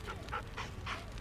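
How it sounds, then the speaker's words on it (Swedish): A running dog pants in quick, short breaths, four or five rapid huffs close by, with no talk. "Det är svårt att gömma sig bakom en hund som springer, men Sylvia gör det ändå."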